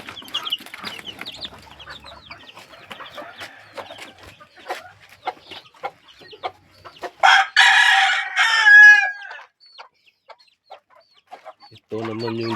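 Backyard chickens cluck in scattered bursts, then a rooster lets out a loud, close crow, with more clucking afterward and a voice speaking briefly at the end.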